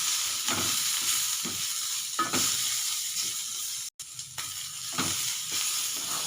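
Beef frying in olive oil in a pan sizzles steadily, with repeated bursts of stirring and scraping at a close, even level and no talk.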